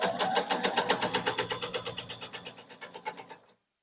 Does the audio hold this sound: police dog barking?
no